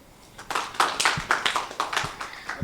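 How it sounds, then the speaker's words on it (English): An audience claps after a presentation at a resilience share fair in Nairobi, with a short run of close, moderately loud claps that is sparse enough to suggest only a few people. "Can we clap for it once more?"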